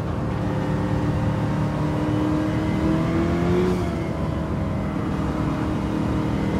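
In a racing video game, the engine of a Nissan Silvia S13 holds under throttle with a steady, loud drone that rises slightly in pitch as it accelerates, with no talk.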